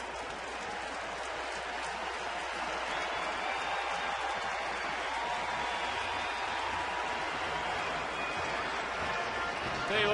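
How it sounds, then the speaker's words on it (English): A baseball crowd at a Rockies at Diamondbacks game in Arizona cheers after a fly out to center field, a steady broad roar of applause and voices holding for about ten seconds, with commentary mixed in. "Fly out to center field and get a nice big ovation."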